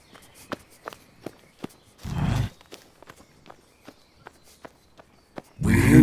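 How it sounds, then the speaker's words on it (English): Footsteps sound in an ASMR roleplay, about a dozen sharp, evenly spaced steps close to the mic, broken by a couple of louder breathy rustling bursts. "We hear your footsteps."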